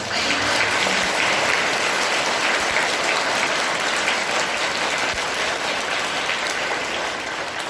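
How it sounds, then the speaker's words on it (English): A room of primary school children at a Children's Day celebration gives their teachers a long round of applause, a dense, even roar of many small hands clapping together, loud and close, with no talking. "So I want you to give a big round of applause for our teachers."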